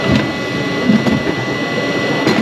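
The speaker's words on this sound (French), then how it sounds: "je vais essayer d'accélérer un petit peu le séchage avec un sèche-cheveux" A hair dryer blows hard to speed the drying of glue at a multi-fishing trade show in Strasbourg. The airflow is a loud, close rushing whoosh with slight pulsing surges across the clip.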